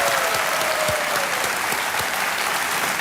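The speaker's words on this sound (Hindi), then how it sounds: "एक बार तालियां बज जाए कपिल शर्मा जी के लिए" Studio audience of a televised quiz show gives sustained applause for comedian Kapil Sharma, a thick continuous wash of clapping from a large crowd, loud and steady with faint voices beneath.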